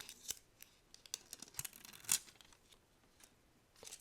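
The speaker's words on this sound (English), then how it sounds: "So let me peel off the top." The top film of a diamond painting sticker sheet is peeled back close and quiet, soft crackly tearing ticks scattered through with one brighter rip near the middle, no speech.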